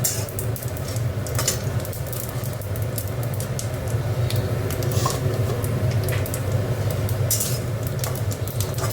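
Panch phoron five-spice seeds and oil sizzle in a hot pan while making chhyachra, a steady, fairly loud crackling hiss with small pops and no talking.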